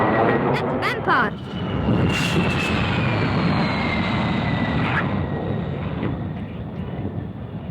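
A de Havilland Vampire jet flies past, its broad engine roar and airy whistle sustained and loud throughout, with a faint rising tone sweeping across and voices talking over it.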